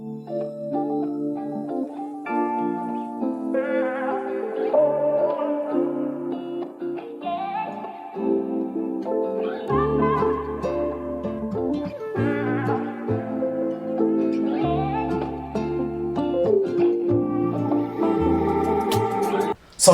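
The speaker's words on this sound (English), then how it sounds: "I added arcade, and I went to Eddie's and I got a vocal chop, and basically just rendered it out like I always do" Rendered hip-hop beat, built with the Arcade plugin and a chopped vocal sample, plays as steady layered melodic music with shifting chords and bass drops, loud and continuous with no talking.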